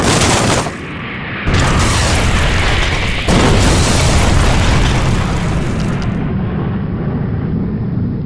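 An aircraft crashing into a mountain peak makes a loud, sustained explosive roar with a sharp burst partway through, rumbling on broadly without pause until the end.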